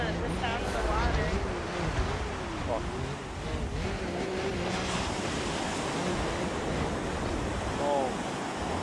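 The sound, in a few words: sound of water, waves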